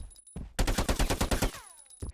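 Rapid automatic gunfire with random bullet scatter from an Unreal Engine game demo, a tight burst of about ten sharp shots followed by a ringing tail and a final single shot.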